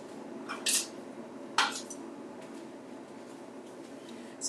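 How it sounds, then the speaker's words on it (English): A spoon stirs strawberry syrup into a drink, giving two quick clinks against the glass, each followed by a short scrape, with a quiet room murmur between them and no voices. "I'm going to stir it up."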